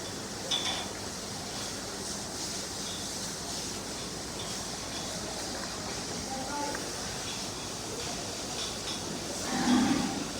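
Cattle at an agro farm in Narayanganj where animals are sold for Qurbani give a low moo late on, faint and distant beneath a constant wash of crowd and background noise.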